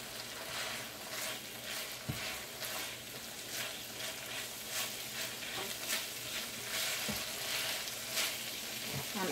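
Cheeseburger helper frying in a pan sizzles steadily as diced pimentos are stirred in with sofrito, with a few scraping knocks of the spoon against the pan.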